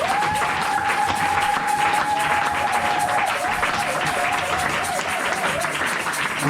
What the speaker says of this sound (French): On acclame pour les rois.